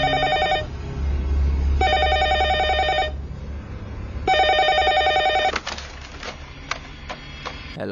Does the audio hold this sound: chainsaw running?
no